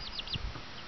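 A small bantam rooster gives a few quick soft clucks and chirps outdoors on a rainy day, faint and close, in a short burst.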